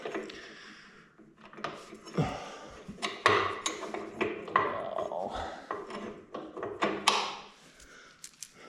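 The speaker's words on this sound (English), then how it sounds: "let's go ahead and put our bolts in there and then we'll tighten these up" Bolts being fitted and tightened into a heavy woodworking bench while making it mobile: a string of close metallic clicks, taps and ratcheting turns, uneven in rhythm, with some light background sound.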